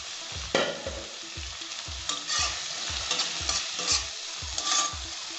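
Chicken masala paste with salt frying in a pan, a steady sizzle broken by a regular rhythmic scraping as a spoon stirs it, close and moderately loud with no voices.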